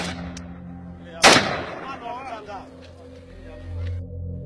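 A soldier's gunshot rings out as one sharp, loud crack with a ringing tail, followed by quieter background noise and faint voices.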